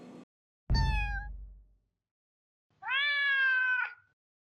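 A cat gives two clear, close meows separated by silence, the first short and sharp, the second longer and drawn out, with no other sound around them.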